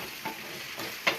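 Fish fries in a hot pan for a Kerala-style fish dish, giving off a constant close hissing sizzle with a couple of brief, sharper crackles near the end; nobody speaks.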